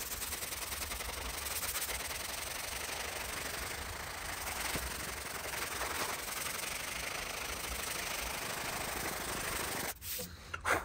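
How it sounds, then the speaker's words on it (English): Wood being hand sanded with 120 grit sandpaper to remove old green paint, a steady close rasping scrape that runs without a break for about ten seconds before it stops. "I've got to go back to like a 120 grit and just sand this wood until I get rid of all the green"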